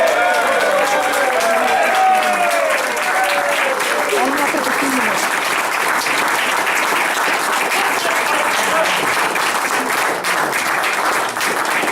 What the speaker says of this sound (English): So I'd like to give a warm round of applause to Rob Hall